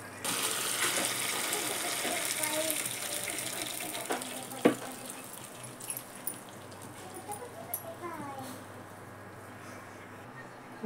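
Water is poured from a tap into khaman batter in a home kitchen, a gushing stream for several seconds with a few clinks, then trickles and small splashes, with a spoon or utensil clattering against the bowl.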